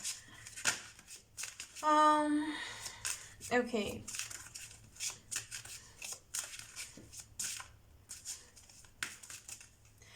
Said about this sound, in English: Why am I shuffling?